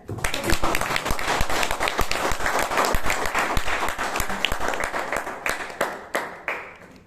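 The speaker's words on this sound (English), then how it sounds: "I am happy to be on stage and listen to that round of applause" A Toastmasters meeting audience in Bangalore gives a sustained round of applause, dense overlapping claps at steady loudness that taper off near the end, with a faint voice underneath.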